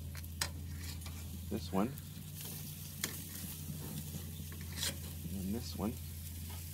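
Smoked food crisping in a hot pan, a steady low sizzle running throughout with a few scraping stirs and clinks, while a voice briefly speaks over it.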